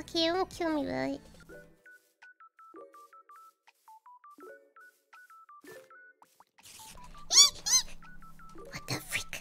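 Short, evenly spaced electronic blips and chirps repeat in a steady pattern, a Minecraft spider's sound effect, with squeaky voice sounds and a meow-like call at the start and end.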